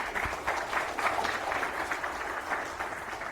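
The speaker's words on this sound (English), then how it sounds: "please give him a round of applause to warmly welcome him" An audience at a Debian RISC-V port conference talk applauds steadily, a dense patter of many hands clapping at moderate volume for a few seconds.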